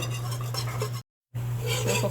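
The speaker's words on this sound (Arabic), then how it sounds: "اقلب لين الدقيق ياخد لون شوية" Flour being stirred in a pot until it browns for béchamel pasta with chicken, soft scraping and stirring over a low steady hum, briefly cut by a moment of silence.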